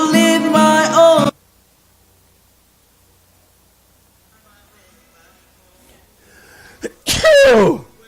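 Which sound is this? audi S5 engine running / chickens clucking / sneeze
sneeze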